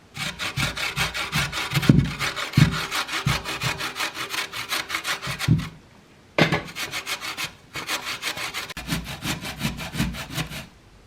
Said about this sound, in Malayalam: അപ്പോൾ ആദ്യം തന്നെ നമുക്ക് ഈ ക്യാരറ്റ് ഒന്ന് ഗ്രേറ്റ് ചെയ്തെടുക്കാം